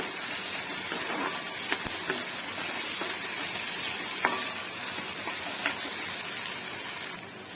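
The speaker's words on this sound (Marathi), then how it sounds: "अधूनमधून छान असे ढवळून घ्यायचं" Matki sprouts and potato frying in a pan, a steady soft sizzle with occasional scrape-like clicks of a spoon stirring now and then, close and moderately quiet with no talking.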